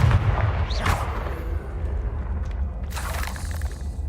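A Confringo spell explodes in Hogwarts Legacy, a booming blast with a rumbling low tail, followed by a second burst of crackling impact noise later on.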